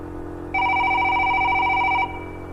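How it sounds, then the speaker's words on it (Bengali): A telephone in a Bengali horror cartoon rings in one steady electronic tone, a clear burst of about a second and a half set against a quiet night-street background. "তো রাতে আবার কে ফোন করছে?"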